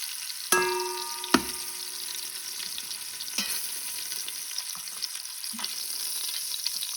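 Pork sears in the pot of an Instant Pot, giving a steady sizzle with a few sharp clinks and stirring knocks near the start. No one speaks.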